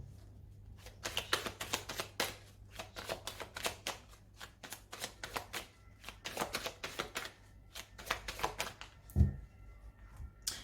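A deck of oracle cards is shuffled and cut by hand, a steady run of close, crisp riffling and slapping card sounds with a soft knock near the end.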